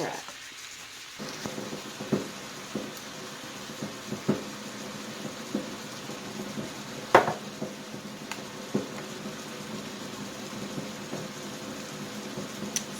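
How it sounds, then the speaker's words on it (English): A coffee pot grumbling as it brews in a home kitchen during dinner prep, a faint, steady rushing murmur broken by scattered small clicks and clinks, with no talking. "Sorry if you hear that grumbling noise. That is my coffee pot."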